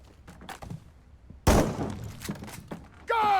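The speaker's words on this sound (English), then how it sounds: "Breach using shotgun." A shotgun blast bursts a door open in a SWAT tactical game, a sudden heavy crack with debris clatter after quieter movement, followed by more impacts and a whistling tail.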